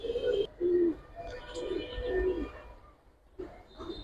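Pigeons coo in a rain-wet loft of racing and coloring birds, several soft low throaty calls repeating at close range with brief pauses between them.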